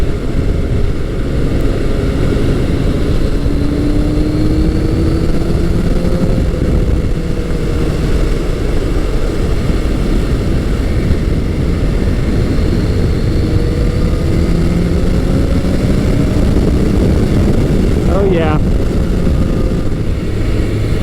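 A 1986–1988 Yamaha FJ1200 motorcycle with a strong, torquey engine runs steadily and loud for the whole stretch, its deep drone rising and falling in pitch as it pulls, with wind roar over it and no voices.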